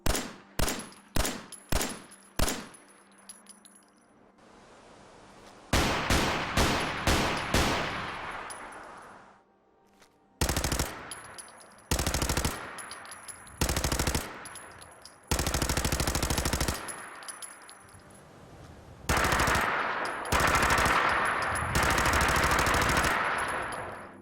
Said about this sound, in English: This mod really increases the intensity and pop of gun sound effects, adding a lot to firefights.